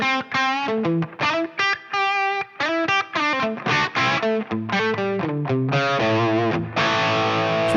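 Distorted electric guitar through a Line 6 Helix amp model with low-gain crunch, playing a melodic line with lush plate reverb tails ringing out, ending on a sustained chord.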